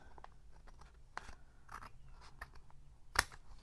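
Scissors snip through paper during a papercraft folder project, a few quiet scattered cuts with light handling rustle and one sharp, louder snip near the end.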